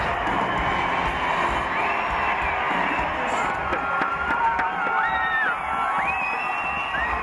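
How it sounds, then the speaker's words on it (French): A crowd in an amphitheatre at an opening ceremony for delegations from 19 regions, cheering and shouting in a steady loud roar with whistles and whoops rising through it. "les délégations des 19 régions ont fait leur entrée dans l'amphithéâtre sous un tonnerre d'applaudissements"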